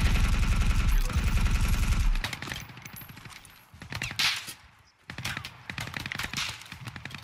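Automatic gunfire in the tactical shooter Ground Branch during a PvP match: a loud, rapid burst dominates the first two seconds, then scattered shots and bursts continue at varying distances.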